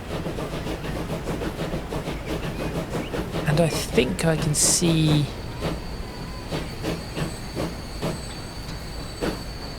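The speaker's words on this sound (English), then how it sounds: "As we pull into this station with 3 trains in the station, 1 pulling out of the station and this one pulling into the station." Trains pull into a station in the video game Transport Fever 2 with UK mods: a continuous rumbling roll with rhythmic clicks, brief wheel squeals and a high whistle, while someone talks over it.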